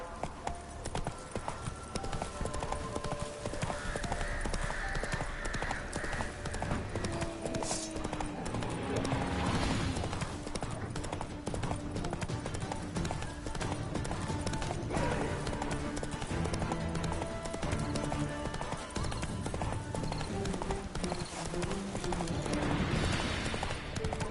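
Hooves of the horse Roach clip-clop in a rapid gallop in The Witcher 3, steady and close, with occasional whinnies under game ambience.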